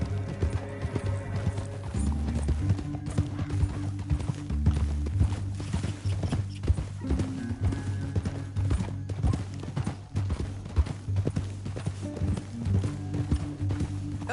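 Steady clip-clop of horse hooves walking in the video game Red Dead Redemption 2, continuous rhythmic clopping with an occasional snort, over a low musical backdrop.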